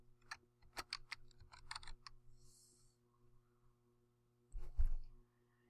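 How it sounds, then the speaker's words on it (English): Keys clatter on a computer keyboard as a paper title is typed, a quick run of close, crisp keystrokes followed by a pause and then a louder cluster of taps. "Next, we will type in the title of the paper."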